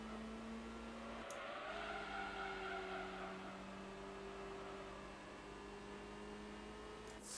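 Honda Civic engine in Gran Turismo 3 hums at a steady drone through corners, pitch gently rising and falling without hard braking, fairly faint and smooth.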